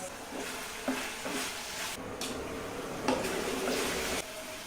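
Spice powders and curry leaves stirred in a pan over a gentle, steady sizzle, with a few soft scraping strokes and clinks, faint and close, no voices.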